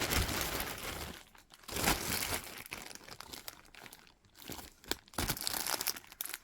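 A cardboard and plastic doll package is cut and pulled open, giving loud close crinkling and crunching bursts separated by short pauses, with no talking.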